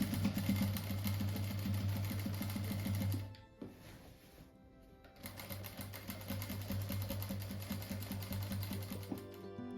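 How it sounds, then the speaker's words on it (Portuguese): A sewing machine stitching around the edge of a fabric butterfly made from strips: a rapid, steady mechanical whirring and clatter that pauses briefly for a few seconds, then resumes at the same pace, close and clear. "agora eu vou passar uma costura em toda a volta"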